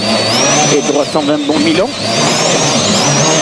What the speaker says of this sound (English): Sebastian Loeb will be working hard on the brakes as he powers the C4 downhill all the way to the finish